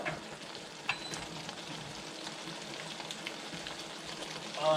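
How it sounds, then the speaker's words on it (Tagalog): A pot of fish stew with frozen green peas bubbling on the stove, a steady close crackle and sizzle of boiling liquid with scattered pops, continuous and even throughout. "So hayaan muna natin kumulo"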